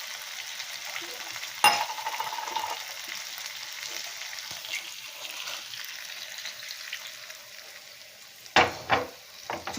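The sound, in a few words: water poured into hot pan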